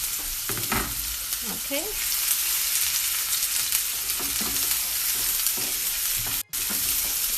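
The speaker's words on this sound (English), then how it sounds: "I'm gonna be putting them in to saute together." Onions and garlic sautéing in a pan for a lasagne sauce, a steady broadband sizzle with scattered stirring scrapes and clicks, close and continuous, with one brief spoken word and a sudden short dropout near the end.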